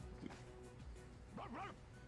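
A dog in the video game Persona 3 Reload lets out a single short bark, partly masked by steady background game sound and low talk.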